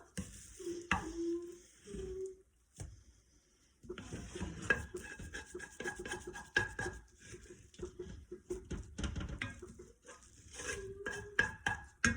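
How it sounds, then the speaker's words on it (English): Keto pizza dough being worked by hand with coconut flour: steady close kneading, pressing and scraping with scattered light taps and clatter against a bowl or counter, no speech. "Then I'm going to take a little of the coconut flour and just kind of work it in a little."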